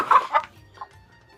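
Domestic chickens cluck during vaccination, giving two short bursts early on and a fainter one near the end, all brief and close.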